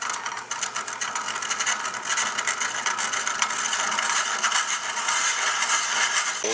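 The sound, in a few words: deep hollowing tool bit cutting wood on lathe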